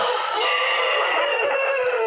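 Laying hens in a coop cluck and squawk loudly and continuously, with a brief rising call near the end and no talk.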